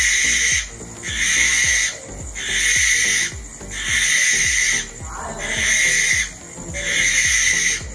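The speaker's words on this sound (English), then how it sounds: "These owls have a very distinct shrieking call, which can make them easier to find in the wild." Barn owl in Hawaii giving its shrieking call, a loud harsh screech repeated about five times in long, evenly spaced bursts, with rhythmic low thumps running underneath.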